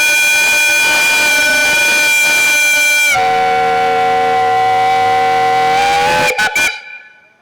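A steam locomotive's whistle blows loud and sustained, shifting to a lower tone about halfway through, then cuts off with brief stuttering bursts before fading out, with no talking.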